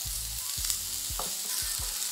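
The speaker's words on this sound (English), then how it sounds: "as the sugar starts to caramelize, now you wanna add the onions" Onions dropped into caramelizing sugar for a Trinidad-style stew beef steak give a steady, close sizzle, broken by repeated low thumps from stirring in the pot.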